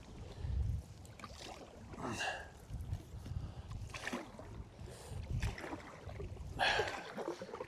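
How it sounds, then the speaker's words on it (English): A paddle dips and pulls through water in a steady, irregular rhythm as a small boat moves toward a marina, with splashes and drips up close over low rumbling wind and water noise. "I'm actually paddling towards the marina now"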